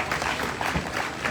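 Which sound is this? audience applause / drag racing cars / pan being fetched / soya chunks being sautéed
audience applause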